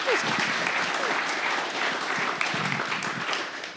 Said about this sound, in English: Can you give a round of applause for our previous speakers?